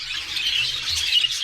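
Birds squawk in a continuous bright chatter from a dark breeding area, a steady dense wash of calls with no individual call standing apart.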